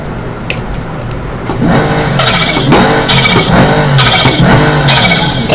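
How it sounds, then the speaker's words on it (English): A supercar engine in BeamNG.drive revs hard again and again, loud and close, with rising turbo whine and sweeping pitch climbs layered over a gritty roar after a quieter idle at the start. "Like, you can hear the turbo."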